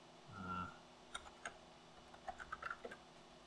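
Short bursts of keystrokes as a password is typed on a computer keyboard attached to a SPARCstation 5 Unix workstation, a few scattered clicks then a quick cluster, faint over a steady fan hum, with no talking.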